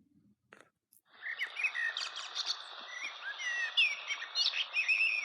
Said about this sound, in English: There's a baby bird sheltering in the nesting box.